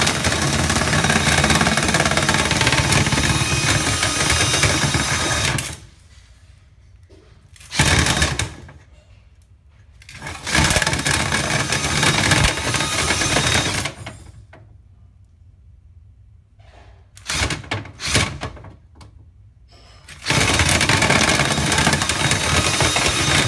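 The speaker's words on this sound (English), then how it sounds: "Today we're cleaning out a dryer vent in Delray." Dryer vent cleaning equipment at a house in Delray roars loudly and steadily, cutting out and restarting several times with short bursts between longer runs, and quiet gaps in between.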